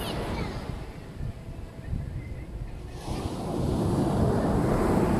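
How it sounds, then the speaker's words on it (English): Ocean waves wash onto a beach in a steady broad rush, softer at first and then swelling louder as a new wave rolls in, with wind noise mixed through. "look at the waves, listen to the ocean"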